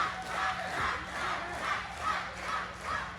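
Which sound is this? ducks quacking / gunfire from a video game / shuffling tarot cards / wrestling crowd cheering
wrestling crowd cheering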